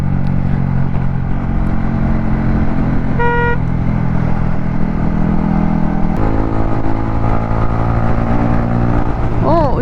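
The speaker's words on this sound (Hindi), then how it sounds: "ओ, स्प्लेंडर इतनी तेज चलती है," A Hero Splendor motorcycle out on a road ride, heard as a steady, loud engine drone mixed with traffic noise, with a brief horn toot near the three-second mark.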